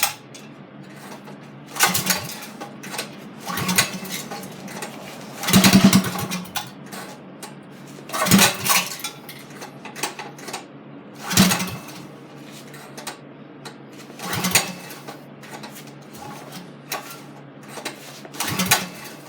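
A race kart engine idles with a steady low throb, broken by repeated loud rattling bursts every couple of seconds, close up and without talk.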